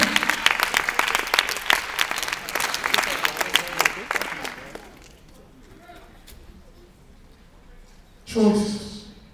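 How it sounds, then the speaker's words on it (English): High school students in a school gathering clap together in a loud, dense burst that tapers off after a few seconds, followed by quieter sounds and a brief voice near the end. "all of you give yourselves a round of applause for even coming out and being in school"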